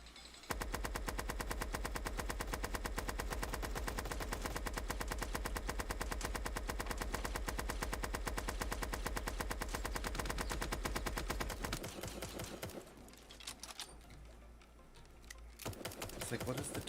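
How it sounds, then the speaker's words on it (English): Rapid, sustained Gatling gun fire at a shooting range inside a VR ghost-hunting game, a dense unbroken burst of shots lasting about twelve seconds before cutting off, followed by scattered softer game noise. "There's a Gatling gun somewhere"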